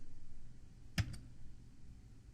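A single sharp click of the enter key being pressed on a computer keyboard, close and brief, with a quiet room hum before and after.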